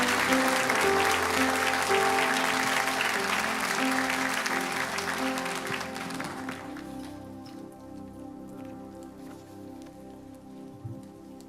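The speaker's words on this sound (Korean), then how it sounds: "목사님과 사모님을 향해서 사랑과 환영과 축복의 박수로" Sunday church congregation giving a long, dense round of applause to welcome the pastor and his wife, loud at first, then thinning out and tapering off, with a low hum underneath.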